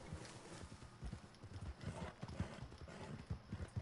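Horse hooves clip-clop steadily at a riding pace in Red Dead Redemption 2 during a snowy trip, a repeated close rhythm of soft thuds with a faint whinny-like sound.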